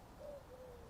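Single soft owl hoot from woods during a Europe-wide game of tag, a faint low tone drifting in briefly and then again, thin and distant against quiet background.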